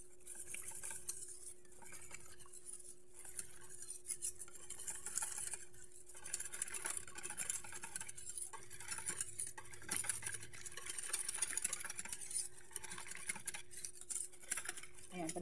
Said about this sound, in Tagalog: haluin natin hanggang sa ma-dissolve yung ating cornstarch